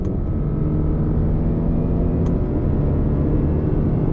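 A 2021 Lexus NX 300h F Sport hybrid pulls hard on throttle in manual shift mode, its engine droning steadily loud from inside the cabin with no voice over it.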